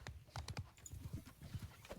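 Horse hooves galloping in a video game battle: a quick, rhythmic run of soft thudding clip-clops, muffled and fairly faint, continuing without pause.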